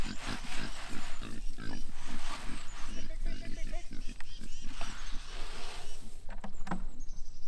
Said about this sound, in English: these are 2 male Cooney pigs